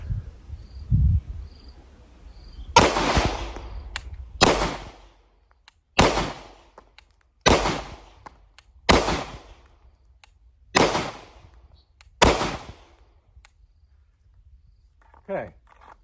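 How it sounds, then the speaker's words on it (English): A Canik Mete MC9 L pistol fires at a target from seven meters, seven sharp loud shots spaced roughly a second and a half apart, each ringing out briefly, with a short metallic clink near the end. "so let's fire from 7 meters onto the target"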